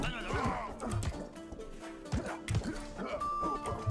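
Horse in the game Rustler, with repeated hoof-like thumps and animal noises under near-constant talk from players.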